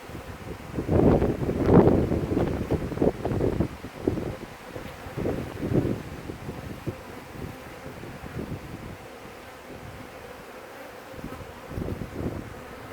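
Honey bees buzzing around an overcrowded hive as it is split, a steady low hum with some wind rustle, louder in the opening seconds and easing to a softer drone.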